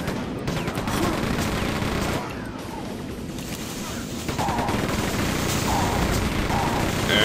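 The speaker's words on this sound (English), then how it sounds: "I guess I could use the chain gun for a change." Rapid automatic chain gun fire in Quake 2 rattles on continuously in dense bursts, loud and close, with brief gaps and what sounds like game effects layered in between.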